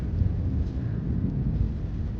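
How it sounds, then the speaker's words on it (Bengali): During a rainstorm over a rooftop garden in Chennai, thunder rolls as a low, continuous rumble, steady and fairly loud for its whole length, with no one speaking. "দেখুন, খুবই মেঘ ডাকছে, বৃষ্টি হচ্ছে।"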